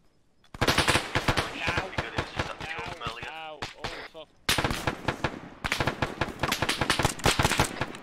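Rapid automatic gunfire crackles loud and close in an Arma 3 mission, dense bursts of shots with a brief pause, overlapping with shouted voices.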